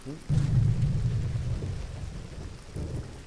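Rain and rolling thunder in the video game Dust: An Elysian Tail, a deep low rumble swelling under a steady patter of rainfall, with no voices.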